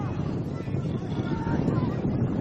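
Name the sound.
wind blowing at outdoor football match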